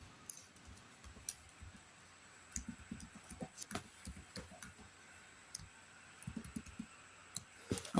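Computer keyboard keys tapped as a password is entered, quiet irregular clicks in short bursts with gaps, close and soft.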